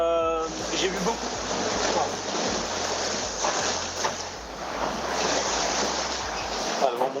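Wind building over a swelling open ocean aboard an IMOCA racing sailboat in the Vendée Globe, a steady loud roar of wind and rushing water with low gusty rumbles throughout, a voice speaking briefly at the start.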